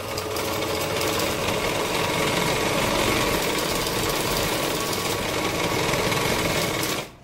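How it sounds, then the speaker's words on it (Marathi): A sewing machine runs steadily for about seven seconds, stitching a side seam on a four-tuck blouse. Its motor buzzes continuously and fairly loudly, then stops abruptly at the end, with no talking. "आता परत एकदा आपण या साईडनी शिलाई देऊन घ्यायची आहे बघा."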